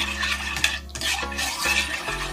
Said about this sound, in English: You want to stir it until it's nice and smooth.